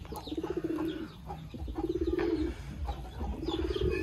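Pigeons coo in a loft in a steady repeated rhythm, three clear rolling calls at close range with softer background cooing and rustling and no talk.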